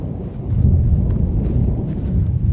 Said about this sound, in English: And I'm in the middle of the storm.